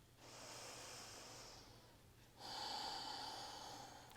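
Slow, audible breaths during a yoga flow: a long airy inhale for about two seconds, a brief pause, then a stronger, fuller exhale that fades out, close and alone with no talking.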